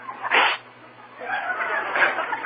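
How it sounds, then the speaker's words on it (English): A single sharp sneeze bursts out in an old-time radio drama, followed by light laughter and murmuring voices. "Who sneezed?"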